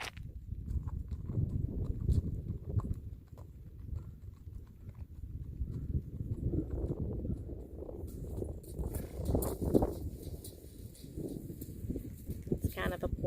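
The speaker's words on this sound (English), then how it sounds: "she'll back him up for us a little bit. This guy is broke. See how he does with those rocks, Kristen?" Palomino gelding's hooves stepping over rocks, irregular clopping and scraping strikes heard close throughout, with people talking over and between the steps.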